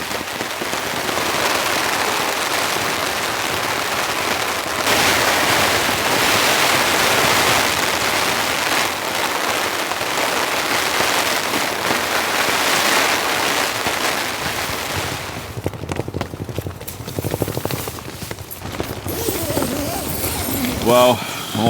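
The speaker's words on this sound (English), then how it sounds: "the wind comes and goes, so does the rain" Heavy rain drums steadily on a tent in a storm with strong gusting wind, a dense roar through most of the stretch that thins into patterings and rustles near the end.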